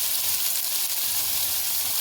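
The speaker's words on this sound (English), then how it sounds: "It's been frying for around 5 minutes or so" Okra sizzles steadily in a frying pan, cooked Trinidad style, a continuous close hiss of oil with a fine crackling texture and no pauses.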